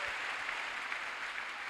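A church congregation applauds the Lord during a sermon, steady dense clapping from many hands, fairly distant and continuous with no voices.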